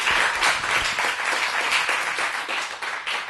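An audience at a university senate meeting applauds the outgoing Senate President with sustained clapping from many hands. The applause stays steady and fairly close, then thins slightly toward the end.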